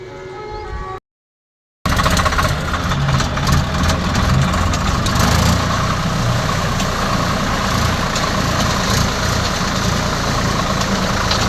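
A Swaraj 855FE tractor, just pulled out of water, idles with a loud, steady diesel rumble after a short burst of other sound and a brief gap.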